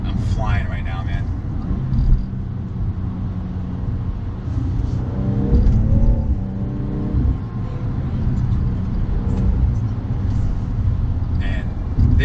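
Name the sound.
BMW M240i engine accelerating at full throttle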